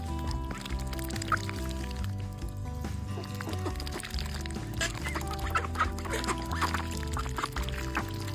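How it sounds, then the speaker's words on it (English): Ducks quack and cluck close by in a lively flock while they enjoy treats, the calls overlapping against a steady background of music-like tones and faint voices. "These ducks are in heaven right now."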